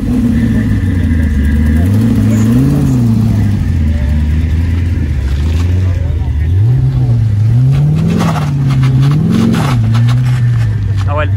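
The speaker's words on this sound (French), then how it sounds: "Voilà les gars, il y a ce monstre qui vient d'arriver. Ferrari FF V12." A Ferrari FF with a 525-horsepower V12 revs loudly and accelerates close by, the engine note rising and falling in several surges, with people talking over it.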